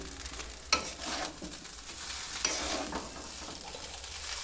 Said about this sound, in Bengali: তো এখন নাড়বো আমি।